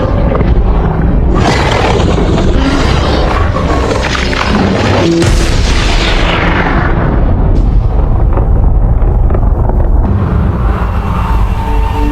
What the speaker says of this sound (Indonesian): Tessa berhasil meledakkan bom pembeku dari dalam perut Kalsik